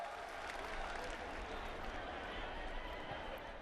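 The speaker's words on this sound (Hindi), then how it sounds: "दोनों हाथ ऊपर उठा के जोरदार तालियों के साथ प्रधानमंत्री जी को हम शुभकामनाएं दें" An audience at a women's self-help groups conference in Karahal, Madhya Pradesh, applauds the Prime Minister. The clapping is a faint, distant, continuous wash of many hands.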